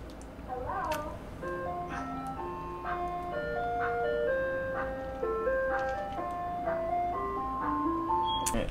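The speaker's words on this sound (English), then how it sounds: "Sorry if you hear the ice cream truck." A nearby ice cream truck plays its tinkling chime melody on a steady loop over low traffic rumble, moderately loud and close by.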